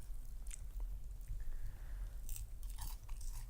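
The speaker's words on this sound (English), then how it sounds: "Wow, it's so crunchy, and I haven't even eaten it yet." Someone bites into crunchy refried fries at a dinner table; a few short, crisp crunches stand out faintly against a steady low background rumble, with no speech.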